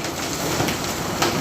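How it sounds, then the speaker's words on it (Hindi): Hail and rain fall steadily on an evening in Lahore, a dense, even hiss of drops with a few louder impacts standing out. "तो चौथी पांचवी दफ़ा ये ओले गिर रहे हैं और हर दफ़ा साइज़ बड़ा हो।"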